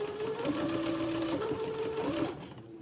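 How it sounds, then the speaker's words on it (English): A sewing machine hums steadily as it stitches back and forth over elastic on a baby garment, a close, continuous motor whir with shifting pitch. "So at the blue dot, I'm going to sew back and forth. To hold that elastic into place."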